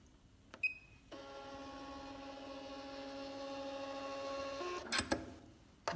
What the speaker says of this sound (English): And then you can just click the printing function to print.